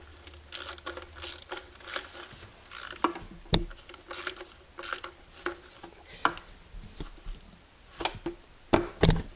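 Ratcheting head of a 71-piece screwdriver set with removable handles, giving a series of small, close mechanical clicks in irregular bursts with quiet gaps between them.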